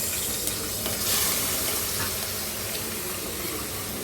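Green chilies and onions fry in hot oil for chicken curry in a dense, continuous close-up sizzle that stays steady throughout, with no voices.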